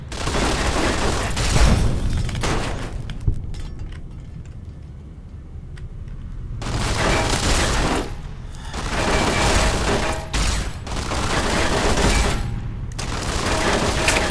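Dense, sustained bursts of gunfire and explosions in the Fallout video game roll in repeated waves with brief lulls between them, loud and close throughout.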